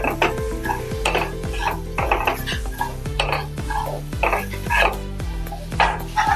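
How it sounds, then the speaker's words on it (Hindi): A spoon stirs a spiced hara bhara kabab mixture of greens, black pepper and garam masala in a bowl, making close, repeated clinks and scrapes against the dish in an uneven rhythm. "अच्छे से मिक्स कर लेंगे"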